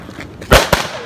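Firework cake going off at a 4th of July celebration, a sharp close burst followed by a second smaller pop within a second, over faint background noise.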